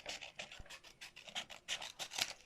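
Scissors snip through a paper square being cut for a cone shape, a close, quiet run of short crisp rasping cuts in an uneven rhythm, with no talking.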